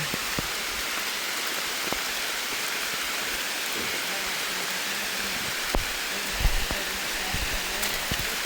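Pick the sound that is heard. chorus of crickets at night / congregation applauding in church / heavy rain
heavy rain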